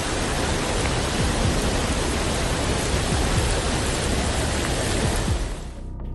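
Torrential rain pours in a dense, unbroken roar during a record-breaking Hong Kong rainstorm, loud and steady throughout, easing slightly only at the very end.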